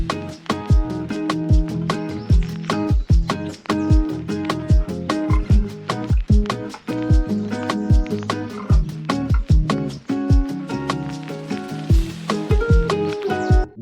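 Beat drop with plucked nylon-string guitars over punchy drums, a steady, dense rhythmic pattern of sharp transients and layered chords, loud and continuous with no talking.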